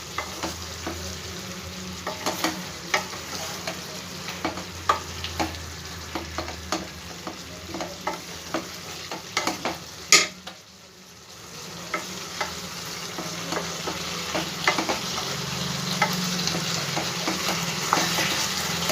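A spatula stirs spiceless potato curry in a pan, a steady sizzle running underneath frequent scraping and clacking strokes, close and fairly quiet, with a brief hush partway through.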